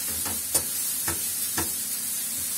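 Onion sizzles and fries in a home kitchen pan for karnıyarık under a constant hiss, while a few distinct scrapes of a spoon stirring it stand out clearly. No one speaks.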